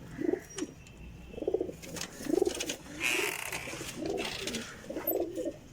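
Fancy show pigeons coo nearby in repeated low, throaty bursts, roughly one per second, with faint chirps and background noise between calls.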